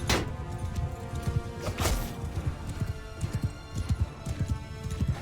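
Horse archers riding in a war strategy video game, hooves clip-clopping in quick rhythmic bursts under a busy game soundscape with a few louder crashing hits.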